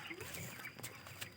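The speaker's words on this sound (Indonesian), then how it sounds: "Tuh, ayamnya banyak nih." Chickens in a large, spacious poultry barn in Parung holding about 7,000 birds cluck faintly and distantly, a soft murmur of the flock with no talking.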